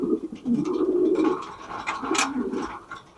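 Large show-quality King pigeons coo at a pigeon farm, several soft, throaty rolling coos close by, alone with no talk.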